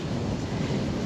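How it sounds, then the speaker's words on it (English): Wind buffets a microphone on a Taipei coastline, a steady loud low rumble with gusty fluctuations throughout, with surf likely mixed underneath and no one talking. "Hopefully you can hear me because it's very windy here."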